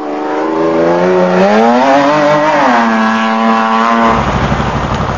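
An off-road race car pulls away at the start of a Baja race, its engine loud and close, revving up in a rising then falling whine before dropping to a rumble, with no talking.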